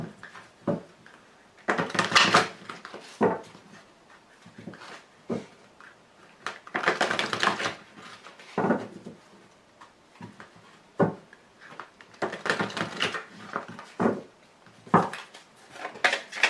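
Oracle cards being shuffled and drawn for a tarot-style reading: repeated brisk bursts of card riffling and slapping, near and moderately loud, separated by quieter pauses with occasional light taps and clicks.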